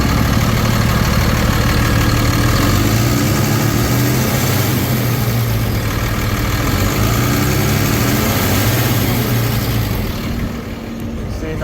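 A 2013 Ford F-750 forestry bucket truck's diesel engine idles smoothly with a steady low rumble, heard close and loud throughout. Its even drone fades slightly near the end.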